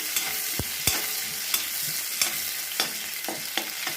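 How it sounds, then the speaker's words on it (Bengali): Onions sizzle steadily in a hot pan while a utensil scrapes and taps the pan in irregular stirring strokes, close up. "দেখো পেঁয়াজটা হালকা ভাজা হয়ে গেছে"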